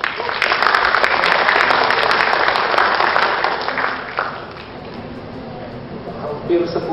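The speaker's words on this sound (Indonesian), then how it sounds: "Kita beri aplaus." An audience at a guest lecture on GeoAI gives a sustained round of dense clapping that fades gradually over several seconds, with faint crowd murmur underneath.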